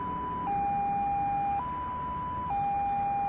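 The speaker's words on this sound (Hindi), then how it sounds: "जहां पे आपको ये एम्बुलेंस की ये आवाज आए" Ambulance siren sounding alone in a steady two-tone wail, alternating between a higher and a lower pitch roughly every second, clear and continuous with faint background hum.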